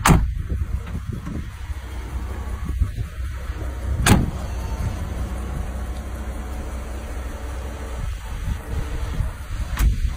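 A V12 4x4 sitting as high as a G-Wagon moves off, with a steady low engine rumble throughout and a couple of sharp clunks or window-motor whirs along the way. No one speaks.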